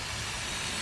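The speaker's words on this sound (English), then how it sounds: "hit this thing up with some brake clean" Brake cleaner sprayed onto the oil pan of a Hyundai Santa Fe with an oil leak, one close, loud, continuous aerosol hiss with no talking.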